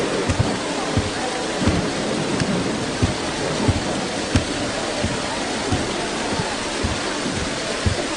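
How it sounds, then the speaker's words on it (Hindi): Heavy rain pours steadily throughout, with repeated low rumbling thuds that suggest thunder, loud and continuous with no clear speech over it. "तुम तो बारिश को देखो"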